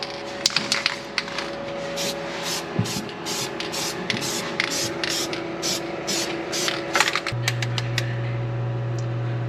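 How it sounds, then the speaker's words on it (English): Gasket adhesive sprayed from an aerosol can during a classic Chevy build comes as a steady hiss. Sharp clicks and taps cut into it, and a low hum rises near the end. "You're supposed to spray the gasket"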